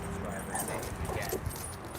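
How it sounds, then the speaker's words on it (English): A dog barks at other dogs outdoors in a desert at dusk, the short barks and yips fairly close and mixed with a person talking over a steady background. "He's just barking at other dogs."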